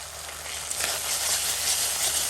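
Spice paste for a Bengali duck curry fries in hot oil, giving a steady, close, hissing sizzle that holds evenly throughout with no talk over it.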